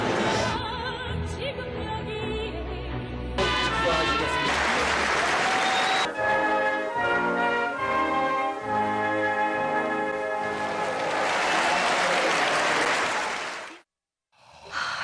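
A studio audience at a 2006 Korean Christian broadcast breaks into sustained, loud applause. Music plays beneath the clapping, which fills most of the stretch before cutting off abruptly near the end.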